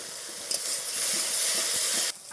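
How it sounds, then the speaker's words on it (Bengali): Spice masala with coriander powder stir-fries in oil for chitol fish kaliya, a steady bright sizzle and hiss with soft spatula scrapes close up, cutting out abruptly near the end. "নেড়ে চেড়ে আরও কিছুক্ষণ সময় নিয়ে কষিয়ে নেব"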